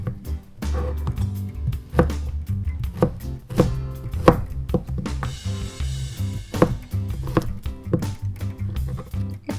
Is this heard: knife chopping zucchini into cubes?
yes